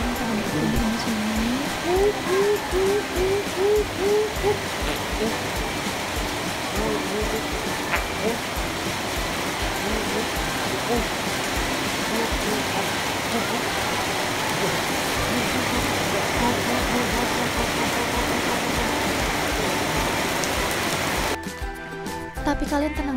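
Heavy rain pours down in a dense, steady roar at a park and zoo in Lembang, Bandung, with a voice briefly heard early on before the downpour continues alone.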